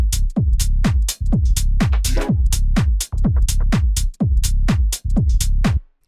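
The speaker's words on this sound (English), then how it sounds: "you basically have a drop already that sounds like this." Tech house drop built from a pumping kick on every beat, crisp hats and layered percussion, loud and steady with a short rise around the middle and a clean stop at the end.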